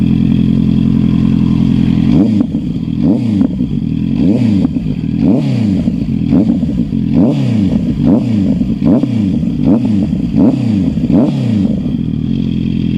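A Honda CBR650R motorcycle with a JP Racing exhaust and a remapped ECU idles loudly. It then revs in a steady series of about ten sharp blips, roughly one per second, close and alone.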